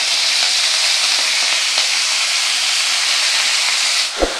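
Spinach leaves hit hot oil in a wok with a steady, loud hiss of steam and sizzle, a dense frying roar that holds for about four seconds before a soft clunk near the end.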